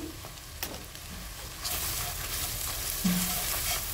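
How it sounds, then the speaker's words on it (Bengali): Ground spices and salt fry and get stirred in a pan of oil for a pangas fish curry with potato and cucumber. A faint, soft sizzle brightens partway through, with a few light scrapes and clinks of the spoon. "দিয়ে সবগুলো মশলা আমি আবারও একটু ভেজে নিচ্ছি।"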